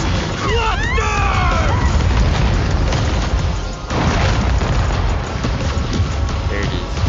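A howitzer cluster strike in the Death Battle video game detonates as a loud, sustained booming blast with crackling debris, a second burst rolling in midway, under faint game effects and a brief voice.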